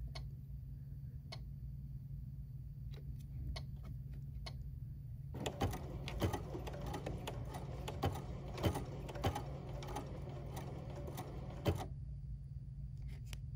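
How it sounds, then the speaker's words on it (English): A BERNINA Crystal Edition sewing machine stitches at low speed in a dense, ticking run lasting several seconds, preceded and followed by softer, sparse mechanical clicks. "I like to turn my speed down low and then sew carefully"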